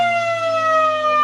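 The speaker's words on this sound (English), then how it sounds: "Siren goes as they go forward once again." End-of-quarter siren at a Lower South West Football League Australian football match between Boyup Brook and Deanmill: a loud, steady, sustained tonal blare that holds unbroken for the whole moment.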